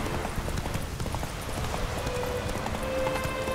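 Rapid rhythmic hoofbeats of a galloping horse in The Witcher 3 during pouring rain, a steady clip-clop pounding close by over a rushing background.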